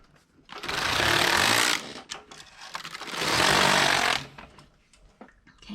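A Passap E6000 knitting machine knits two rows, each a loud close rasping carriage pass lasting over a second, separated by a brief pause with light clicks.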